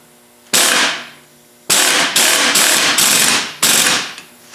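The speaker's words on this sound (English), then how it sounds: "I'm going to give it a zip with the impact." An impact wrench tightens the strut nut on a Bilstein B8 front shock during a suspension swap, firing four loud, close rattling bursts of hammering with short pauses between them.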